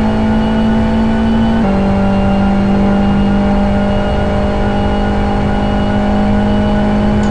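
A GT1 race car engine drones loudly during a race, a sustained steady whine whose pitch drops once partway through, then settles and holds near and strong without any talk over it.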